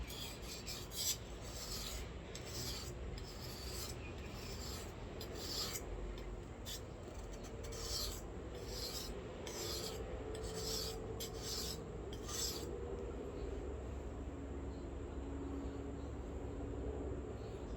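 A Japanese kitchen knife being re-profiled on a whetstone gives a steady, continuous gritty rasp with rhythmic strokes, close and moderately loud, with no talking.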